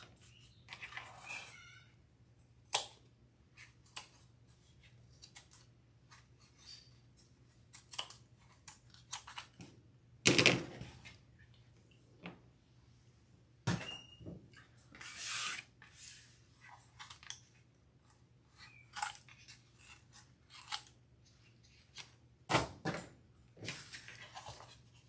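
Scissors snipping away excess cooled hot glue around a sewn peacock wreath, heard as scattered short crisp cuts and rustles, with a few louder snips, fairly close and quiet overall, no talking.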